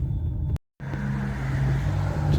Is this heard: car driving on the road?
yes